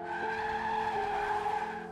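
A car brakes hard and its tires screech in a long, loud skid with a sustained tonal squeal that fades slightly at the end, a dramatized effect heard on its own without talk.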